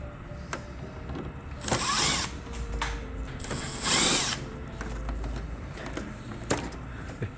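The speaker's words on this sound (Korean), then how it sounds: "그리고 상단부로 가셔서 테두리 나사를 풀어줍니다." A power drill spins out bezel screws on the top section of an LG Whisen Aroma stand air conditioner, giving two loud close whirring bursts among quieter tool clicks and handling noise.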